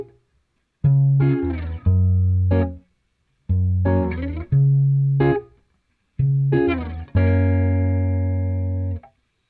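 An electric guitar recording after amp noise removal in iZotope RX 8, with a series of loud picked chords and single notes in short phrases separated by clean silences, the last chord ringing out long.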